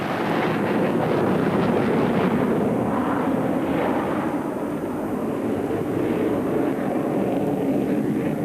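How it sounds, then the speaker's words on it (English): Jet aircraft fly a simulated dogfight air display at an international air tattoo, producing a loud, continuous roaring rush of engine noise with heavy wind buffeting and no talk. "This display is simulating a dogfight with a solo pilot, a combat team of 2 Angels, and a Bandit."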